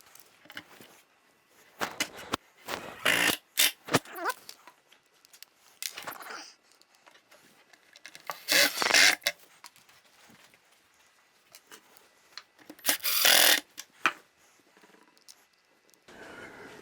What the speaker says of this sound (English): So now I can attach the rest of the screws in.